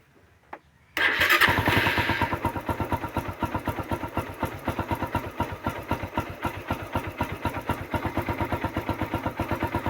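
A Suzuki Raider 150 motorcycle engine starts with a sudden roar, then settles into an uneven idle, sputtering and misfiring in a rough, pulsing rhythm close to the microphone.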